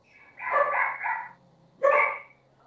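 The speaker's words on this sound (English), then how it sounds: "Shut those dogs up!" Two loud, close dog barks with a pause between them, the first drawn-out and wavering and the second sharp and sudden, over a faint steady hum.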